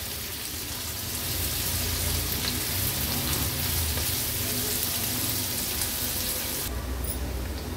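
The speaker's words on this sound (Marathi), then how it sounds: "ही हिरवी मिरची एक कट करून घेतली आहे, ती ऍड करूया आणि आता कांदा छान आपल्याला शिजवून घ्यायचा आहे।" Onion and cut green chilli frying in a pan on a low flame for a prawn tawa masala, a steady dense sizzle crackling continuously throughout, fairly close and even.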